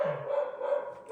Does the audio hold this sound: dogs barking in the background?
yes